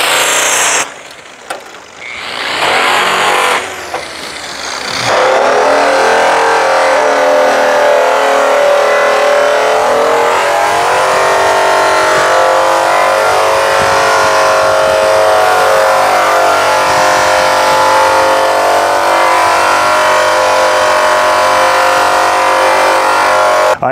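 A rotary polisher with yellow compound buffs a DeLorean DMC-12's stainless steel, starting with a few short bursts, then spinning up into a loud, steady whine that holds unbroken.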